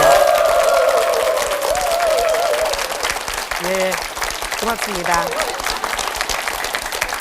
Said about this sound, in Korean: 이 대목에서 이제 박수 한번 치셔야 돼.